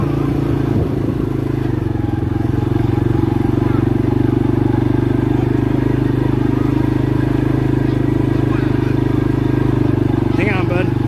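A 2022 CFMoto CForce 500 ATV engine drones steadily and loudly in low gear, a constant close-up rumble with rattles and clatter over it while climbing on a camping trip, with a voice speaking over it.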